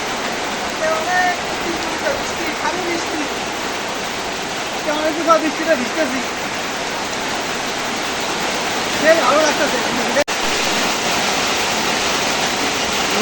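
Heavy rain pours down steadily outdoors, a broad continuous rushing hiss that stays loud and even throughout, with faint voices and occasional small knocks under the downpour.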